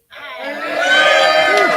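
A small crowd at a town hall meeting inside Rubin's Deli in Elyria, Ohio, bursts into cheering and whooping that swells quickly and holds loud and close.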